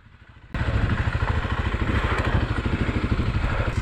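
A KLX 250 dual-sport motorcycle on a rocky enduro trail suddenly roars up close and loud, its engine throbbing in a fast, steady pulse with rattling clatter underneath.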